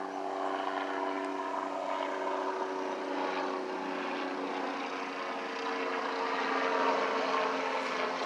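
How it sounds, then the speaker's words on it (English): A helicopter flying over at night, a steady droning rotor and engine hum at moderate distance that holds level throughout and swells slightly near the end. "Got a helicopter or something flying over right now."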